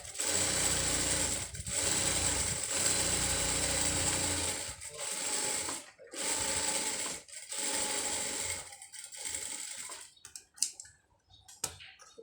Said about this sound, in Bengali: দেওয়ার পরে এখন আমি আবার এটাও সেলাই শুরু করে দিলাম।